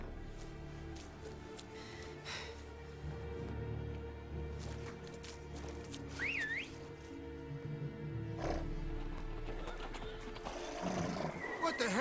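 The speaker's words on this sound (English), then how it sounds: "Horses? Ready our horses!" Horses in The Witcher 3: Wild Hunt neigh and whinny with a brief high squeal midway, over a busy bed of hoof clatter and game ambience.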